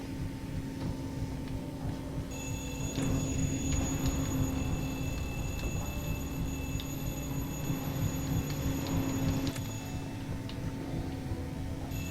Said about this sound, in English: my phone alarm is going off